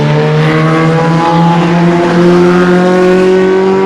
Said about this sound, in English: Two little cars decided to race one another